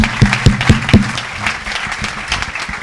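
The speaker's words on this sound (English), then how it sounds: "Let's round of applause, Ahmed." Audience applause at a tech panel, a dense burst of hand claps with a few sharp, loud claps near the start, then steady, even clapping that carries on to the end.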